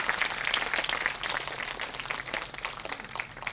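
An audience at a college production of Shaw's Pygmalion applauds for an actress, a steady crowd of moderate-distance clapping with scattered sharp claps that holds at an even level throughout.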